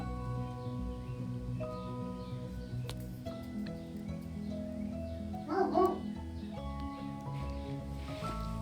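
A dog barks a few times at moderate distance, a short burst standing out over steady background noise and music-like tones indoors.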